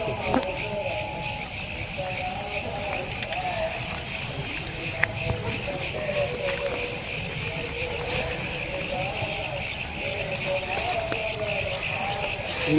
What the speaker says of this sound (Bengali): জায়গা একদম খালি পোকার আওয়াজ